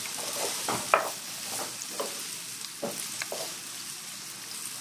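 Onion frying in a pan for a baked eggplant and meat pie, a steady close sizzle with a few stirring scrapes and clinks spread through, no talk.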